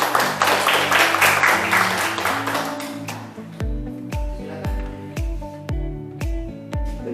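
Classmates applaud a group after a classroom presentation, several seconds of dense clapping that fades into struck musical notes ringing out one after another.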